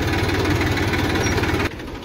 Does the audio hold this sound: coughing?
no